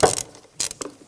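A ratchet with a 10mm socket clicks in short bursts while loosening the throttle cable bracket bolt on a 1996-2002 Toyota 4Runner, with a quick close run of clicks at the start and two more brief bursts after a pause.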